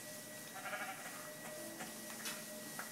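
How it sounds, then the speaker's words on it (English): Sheep bleat a few times in a Minecraft world, faint and fairly distant over a steady background hum, with a player's voice nearby. "Collect some wool off these guys. Get over here, sheep."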